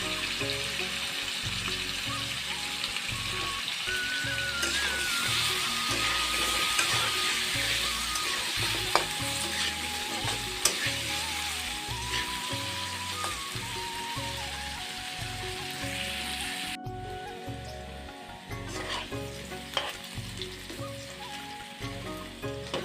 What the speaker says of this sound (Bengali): আলুটা ভেজে নেব।